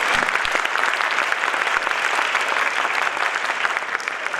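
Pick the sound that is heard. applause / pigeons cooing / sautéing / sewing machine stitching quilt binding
applause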